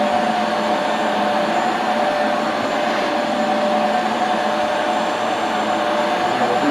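A Bissell TurboClean PowerBrush pet carpet cleaner, model 2987, runs a dry stroke over carpet with its motor set to suction only. It makes a loud, steady, unbroken whine and roar from start to end, with no voices.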